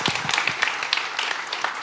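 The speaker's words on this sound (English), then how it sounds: "let's give a round of applause though." A crowd claps together in a dense, steady burst of applause, with sharp individual claps standing out.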